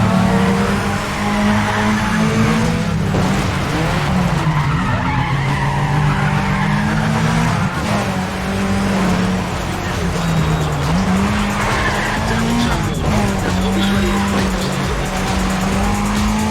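Race car skidding with tire squeal and steady engine roar in Need for Speed ProStreet, a grip-racing game; the loud engine drone holds throughout with repeated squealing slides, and some talk sits faintly underneath.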